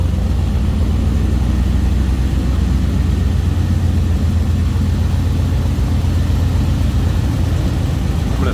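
A 1958 Chevrolet Apache Fleetside street rod idles with a side-exit exhaust, a deep, steady, loud rumble running unbroken and close by.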